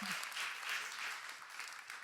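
Audience at a panel discussion applauding as panelists come on stage, a soft, distant, even patter of clapping with no voices over it.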